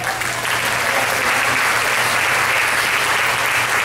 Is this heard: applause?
yes